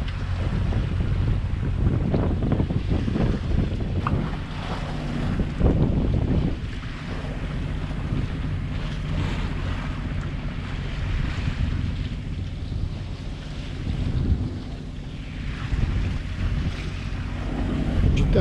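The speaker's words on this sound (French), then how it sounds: "Je viens de rallumer le moteur." Out at sea, a sailboat's engine drones low and steady beneath heavy wind buffeting and the rush of waves against the hull, a dense continuous roar without speech.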